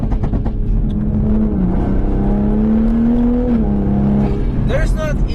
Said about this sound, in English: It has so much power, so little turbo lag, the acceleration is so fluid and constant.